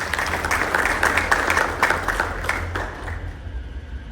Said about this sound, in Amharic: እስኪ አጨብጭቡ ለዚህ ጌታ።